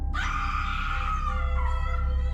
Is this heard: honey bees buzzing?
no